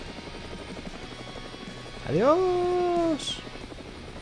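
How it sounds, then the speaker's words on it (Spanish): A helicopter in the video game Brick Rigs drones steadily throughout with a low chopping rotor texture, while a voice briefly shouts over it midway. "yo creo que el helicóptero lo puede levantar perfectamente"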